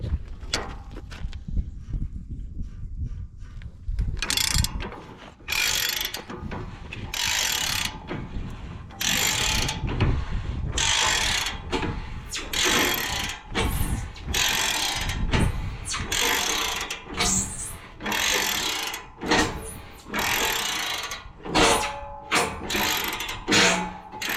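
Repeated bursts of ratchet clicking as a fitting is tightened. Long runs of close, loud ratcheting are broken by short pauses, after a quieter opening few seconds.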